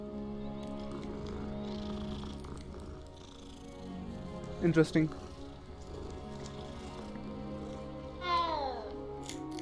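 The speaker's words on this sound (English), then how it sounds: "A cat." A cat in the Hogwarts Legacy video game gives a short meow and a soft trilling purr, heard under a steady game music bed while someone speaks briefly.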